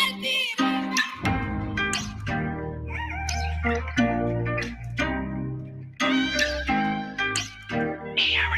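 Cat meowing loudly and repeatedly in drawn-out, wavering cries with short gaps, close to the listener, crowding out everything else.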